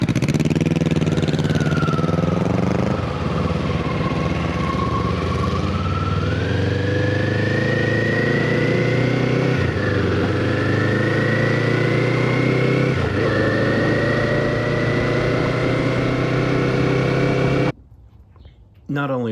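A 2024 Kawasaki Eliminator motorcycle with a Voodoo muffler exhaust, running continuously and loud up close, its engine note climbing through several revs and gear shifts before a sudden cut near the end.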